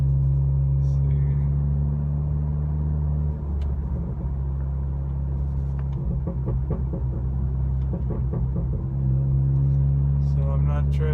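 2019 Honda Accord with a loud aftermarket exhaust, a deep steady rumbling drone heard from inside while driving slowly, with a few low throbbing pulses midway.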